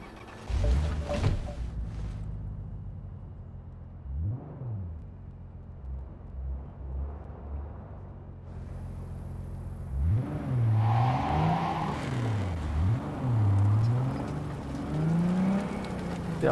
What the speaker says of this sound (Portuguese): Ah, mas o nosso carro chegou aqui